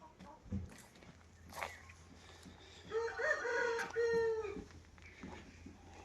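A rooster among loose farm poultry crows once, loud and drawn out, after scattered soft clucks and rustling footsteps, with faint background noise around it.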